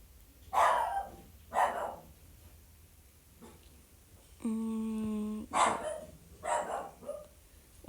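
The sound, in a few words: dog barking in the background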